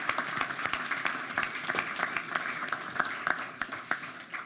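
Audience applause following a speech about midterm election candidates, a steady wash of many hands clapping at moderate distance, fairly soft, with no talking.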